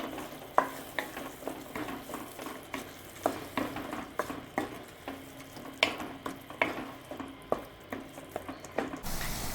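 Coriander, chilli and turmeric powders heated in a pan and stirred, giving a soft sizzle broken by regular scraping and clicking strokes of the spoon, quiet and close, with no talking.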